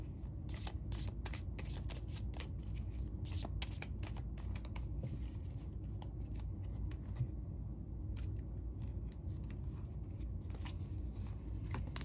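A deck of Radiant Sun oracle cards is shuffled nearby in quick flurries of soft, dense riffling clicks for several seconds, then goes quieter over a low steady background hum, with no talking.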